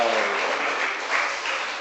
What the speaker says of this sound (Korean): 네, 박수 한번 쳐줍시다.